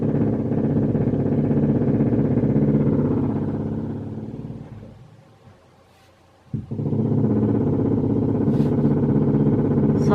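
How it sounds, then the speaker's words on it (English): A jackhammer pounds on driveway construction outside a house, a steady loud rattling drone that fades out for about a second, then a sharp hit restarts the hammering at full volume. "So sorry about the jackhammer noise."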